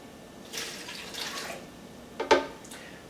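Room-temperature water, 8 ounces, poured into a Blendtec and an Omni Blend blender jar: a soft splashing pour with a brief louder burst of liquid near the end, heard alone at close range.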